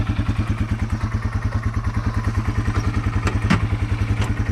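A Yamaha TW200 dirt bike chugs along off-road, its single-cylinder engine thumping in a fast, even, loud pulse up close, with occasional clatter over the terrain.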